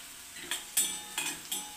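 Onions with chilli powder are stirred and sautéed in a pan, giving four or five distinct metallic scrapes and clanks of a spoon against the pan over a faint background sizzle.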